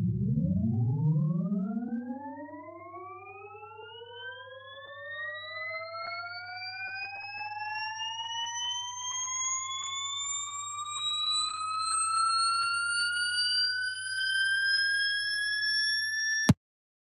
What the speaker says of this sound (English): this is the order from the gear. So this is coming from the mesh, gear meshing.